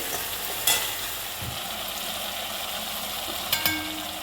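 Mustard curry with fried brinjal stirred in a pan, a soft, steady low sizzle with a couple of brief spoon clicks against the pan.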